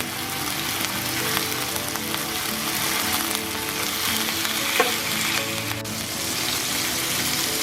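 Pork sears in a pan over high heat, giving a loud, continuous sizzle and crackle that stays close and steady throughout, with no voices.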